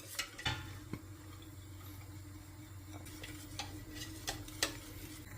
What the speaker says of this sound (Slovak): Takto to musíš stále miešať.